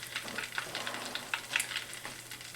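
Scotch egg frying in hot oil at about 325 to 350 degrees, a steady crackling sizzle with scattered sharp pops, close and moderately loud, with no talk.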